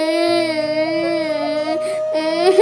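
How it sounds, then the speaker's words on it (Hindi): A cartoon child crying loudly in the rain, a sustained high wailing voice with a wavering pitch that rises again near the end, close and loud. "उसे एक बच्चे की रोने की आवाज सुनाई देती है।"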